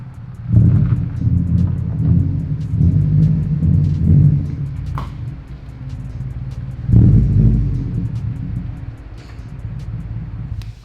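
A Subaru WRX STI with a suspected blown engine is restarted after sitting, giving a loud low rumble that swells twice, first on starting and again mid-run, then settles to a steadier idle.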